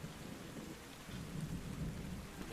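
Steady rain and thunderstorm ambience for a forest scene in a Call of Cthulhu tabletop role-playing game, a dense continuous downpour with low rumbling thunder swelling underneath, no voices.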